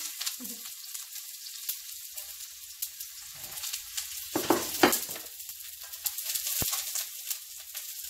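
Garlic and onion sizzling in a hot pan, a soft steady hiss with intermittent crackles and stirring scrapes, close and fairly quiet.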